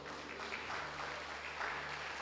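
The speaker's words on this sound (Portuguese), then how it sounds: "Uma salva de palmas para o Senhor Jesus" Congregation applauding in church during a Brazilian evangelical service, a soft, steady wash of clapping heard from a distance with a faint low hum underneath.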